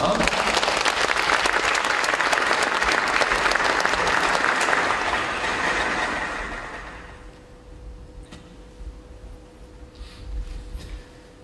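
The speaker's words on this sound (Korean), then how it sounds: "세 분 선생님을 큰 박수로 맞이해주시면 감사드리겠습니다" Loud, dense applause from a school anniversary ceremony audience welcoming three long-serving teachers, sustained for about six seconds before fading into quieter room noise with a steady faint tone.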